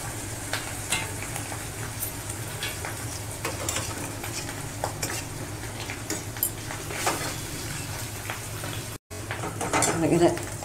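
Cumin, chilli and coriander powder mixture is stirred in a pan. Soft scraping and occasional light clinks of a utensil on metal sit over a faint, steady background hiss for several seconds.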